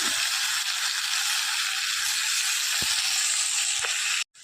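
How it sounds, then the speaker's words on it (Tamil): Tomatoes added to onions frying in oil for a Tamil brinjal curry sizzle loudly and steadily, a dense hiss with a few faint stirring knocks, then cutting off abruptly near the end. "இப்போ நம்ம தக்காளியை இதில் சேர்க்க போகிறோங்க மூன்று தக்காளியை சேர்த்து"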